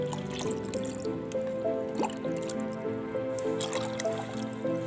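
Liquid is stirred in a container, a small amount of around 10 to 20 ml mixed while planting potted fruit seedlings, giving soft, close sloshing and dripping sounds over a low background tone.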